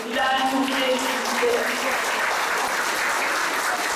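Sustained crowd applause at a political rally in Nazilli, Turkey, a dense, even roar of clapping that holds loud for the whole stretch, with faint voices in the opening moments.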